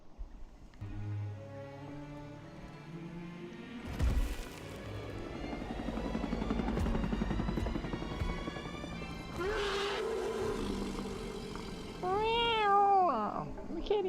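A cat meows in a Predator hunting-ground video game, with rising and falling cries near the end over a dense, loud game soundscape of rumbling ambience and effects.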